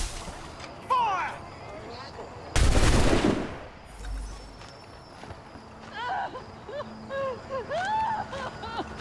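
A single loud firing-squad volley of musket gunshots bursts out in a period street execution scene in Assassin's Creed 3, with shouting crowd voices and ambient chatter around it before and after.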